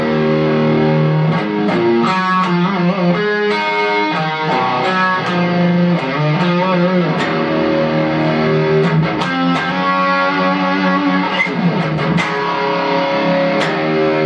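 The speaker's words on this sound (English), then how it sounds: "I'm using my Fender G deck with like a Marshall style sound, a little bit of reverb, and chorus" Electric guitar played through a Fender G-DEC amp set to a Marshall-style overdriven tone with light reverb and chorus, a steady sustained riff with strummed chords and picked notes filling the whole stretch, loud and close with no talking.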